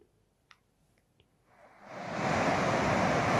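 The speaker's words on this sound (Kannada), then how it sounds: "20 ಗೇಟ್ಗಳ ಮೂಲಕ ಸದ್ಯ ನದಿಗೆ ನೀರನ್ನ ಬಿಡುಗಡೆ ಮಾಡಿರುವಂತದ್ದು." River water pours through twenty open crest gates of the brimming Tungabhadra dam. Near-quiet at first with a few faint clicks, the sound swells into a broad, continuous rushing roar.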